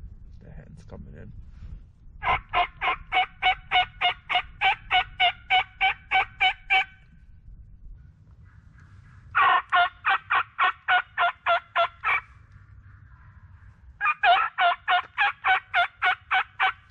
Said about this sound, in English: The one just gobbled.